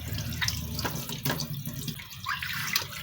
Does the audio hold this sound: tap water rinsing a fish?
yes